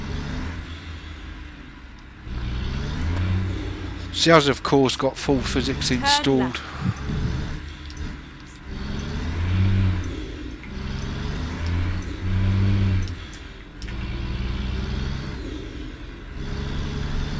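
In American Truck Simulator, a Mack truck with its smallest engine and Z-mod sounds pulls away, a low diesel rumble swelling and easing through gear changes as someone talks over it.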